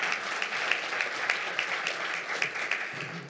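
Sustained audience applause at a Zimbabwe debt arrears side event meeting, a dense, steady round of clapping from a room of people, fairly close and unbroken for the whole stretch.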